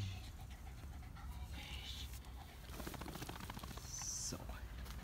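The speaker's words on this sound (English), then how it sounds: "Doggy." A dog panting in a garden beside a new pool, quick rhythmic huffs close by, fairly faint, with bursts of the rapid breathing continuing across the whole stretch.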